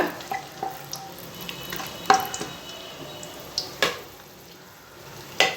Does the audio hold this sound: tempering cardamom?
yes